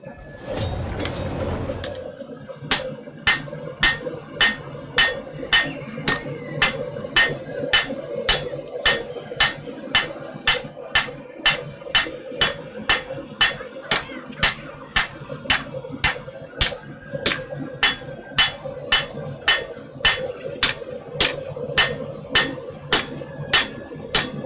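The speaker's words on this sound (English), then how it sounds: "This is a heavier hammer than I'm used to using." Heavy hammer blows on metal in a smithy, a long steady run of sharp ringing strikes at an even rhythm, loud and close, after a brief burst of noise at the start.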